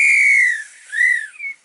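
A referee's whistle sounds in a long, piercing blast, then a shorter second blast and a brief final chirp, close and clear against silence.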